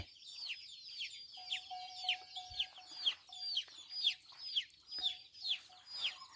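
Chickens cluck over and over in quick, rhythmic bursts, fairly close, with a faint steady tone in the background.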